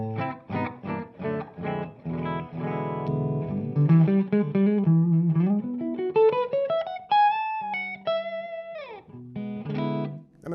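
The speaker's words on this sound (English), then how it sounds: "We're going to start with the clean channel on a Les Paul. This is just straight in, no reverb from the amp at all." Clean electric guitar tone from a Les Paul played straight into a Fuchs ODS 2 amp's clean channel with no reverb. Strummed chords give way to single-note melodic runs with sustained notes, close and clear, with no talking.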